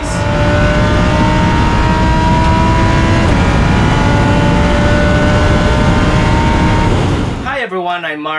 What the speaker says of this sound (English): driving a Lamborghini Huracan Super Trofeo at the legendary circuit of Ricardo Tormo in Valencia